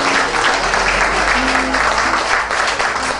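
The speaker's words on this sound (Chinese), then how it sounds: "係 D 班鼓掌" Classmates at a St Paul's College Class of 1969 40th anniversary reunion clap steadily for class D, a dense, continuous round of applause from a room of people with no pauses.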